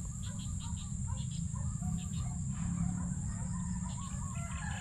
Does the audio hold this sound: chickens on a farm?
yes